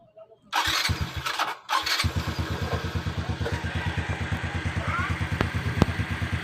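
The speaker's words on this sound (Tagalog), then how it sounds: "Ito na ang tunog final na tapos na napalitan ng connecting rod mga boss." A Suzuki Smash 115 motorcycle engine kicks over after a few cranking attempts following a connecting rod replacement, then settles into a steady, even putter close by that grows a little quicker and louder as it runs.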